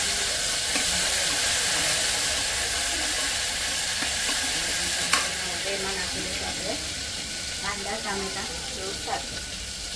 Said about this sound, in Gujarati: આદુ મરચાંની પેસ્ટ નખાઈ ગઈ છે હવે એને સોટે થઈ જશે બધું